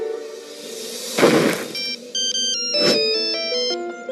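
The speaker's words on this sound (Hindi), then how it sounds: "मैं अभी राज और मीरा को फोन लगाता हूँ।" An electronic phone ringtone plays a bright melodic run of beeping tones in an animated film, preceded by two short whooshing bursts; it is loud and close, with no talking.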